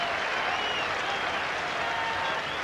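Hull FC rugby league fans at the 1976 John Player Trophy Final at Headingley, Leeds, give a whole section's sustained applause, a dense, steady roar of clapping with a faint commentary voice beneath.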